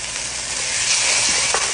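Ginger, garlic and tomato paste frying in a hot pan, a loud steady sizzle with bright hiss throughout and a faint stirring scrape near the end.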